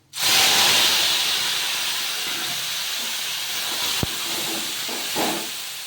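Mung dal and ash gourd ghonto goes into hot oil tempered with bay leaf, dried chilli and black cumin, setting off a loud, sustained sizzle that bursts in abruptly and then hisses steadily, with a faint clink partway through.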